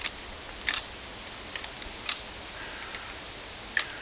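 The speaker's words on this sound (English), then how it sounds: "load the bolts in just one by one" Crossbow bolts are loaded one at a time into a Cobra Adder repeating crossbow magazine, heard as a few sharp, close plastic clicks and snaps spaced irregularly over a quiet background.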